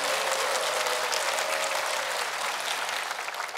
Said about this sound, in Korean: 여러분 다시 한번 큰 박수 좀 보내주십시오